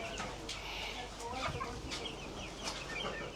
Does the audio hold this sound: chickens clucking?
yes